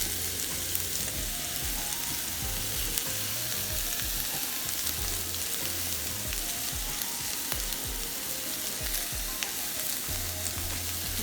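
A burger patty sizzles steadily on a grill top, a loud, continuous frying crackle with fine pops running throughout, with no voices over it.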